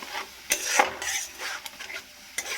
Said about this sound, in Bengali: এবার আমি ভালো করে নাড়াচাড়া দেবো